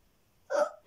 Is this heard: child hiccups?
yes